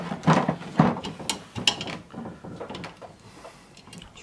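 A screw is run down into a Chevy C10 power window regulator, giving close, irregular mechanical clicking and ratchety turning sounds that fade toward the end, with no speech.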